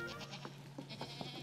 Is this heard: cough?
no